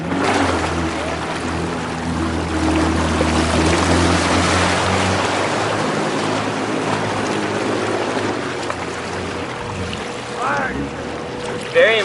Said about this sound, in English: You want to hop back on as soon as possible and restart your Waverunner